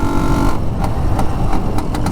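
An Escorts Rajdoot 175 two-stroke motorcycle engine runs steadily and close by, a low continuous drone broken by a few brief sharper bursts over about two seconds, with no talk.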